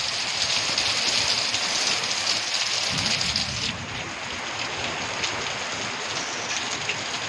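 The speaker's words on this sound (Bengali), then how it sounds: "সকালবেলা এমন বৃষ্টি হলো, এরকম রাস্তাঘাট সব ডুবে গেছে" Heavy morning rain pours down over flooded streets, a dense, steady roar of drops hitting surfaces that eases slightly partway through.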